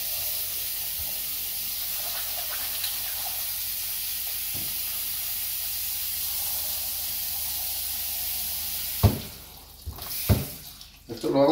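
Water runs steadily from a home water filter in a ranch-style kitchen, a continuous hiss lasting several seconds before a few louder bursts and clunks near the end.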